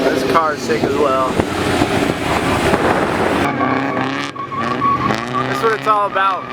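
A stock KA240 car revs and skids at the Import Alliance car event, engine roaring with rising and falling pitch and tires squealing, loud and close amid crowd noise and voices.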